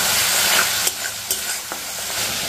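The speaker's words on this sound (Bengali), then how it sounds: "চিকেনটা ফ্রাই করবো আগে, তারপর মশলা কষে তারপর দেবো" Chicken pieces frying in a pan of hot oil, stirred with a utensil, giving a steady close sizzle broken by a few sharp scraping strokes.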